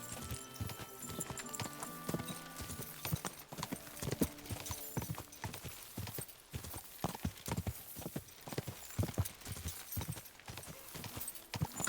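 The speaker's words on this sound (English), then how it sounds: "Watch out with that horse!" Horse hooves clip-clopping in steady rhythmic beats in the medieval game Kingdom Come: Deliverance 2, fairly close and continuous with no talking over it.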